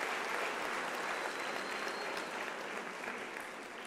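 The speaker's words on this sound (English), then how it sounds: "Can we give Professor Mudimo a round of applause?" An audience at an academic-year opening ceremony applauds a professor, a sustained wash of many hands clapping that holds strong and fades only slightly toward the end.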